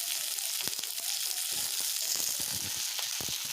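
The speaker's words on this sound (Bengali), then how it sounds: "লঙ্কা দেওয়ার পরে আলু আর বেগুন, আলু আর বেগুন দিয়ে দেওয়া হচ্ছে।" Potatoes and eggplant sizzle in hot oil in a pan for a pumpkin-stem curry, a loud, steady frying hiss with occasional crackles and stirring knocks, close and continuous with no talking.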